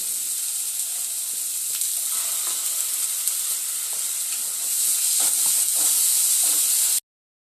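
Ground spice paste for a chicken dish fries in a pan with a loud, continuous hissing sizzle that swells stronger toward the end before cutting off abruptly, with faint stirring scrapes underneath.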